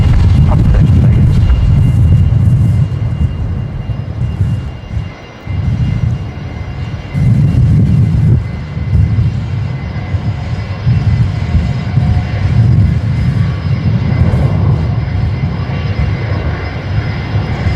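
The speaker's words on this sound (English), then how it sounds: "I can hear a very noisy Fokker coming into one of the very close bays" A loud, sustained Fokker aircraft engine roar close by, a low droning rumble that dips briefly before continuing steadily as the plane taxis into a bay at Brisbane Airport.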